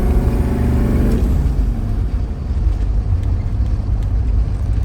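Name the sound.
1984 GMC Suburban K2500 Detroit diesel engine revving under boost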